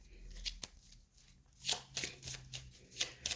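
Tarot cards are shuffled in quick riffling bursts, a few sharp slaps and ruffles close by with short pauses between them.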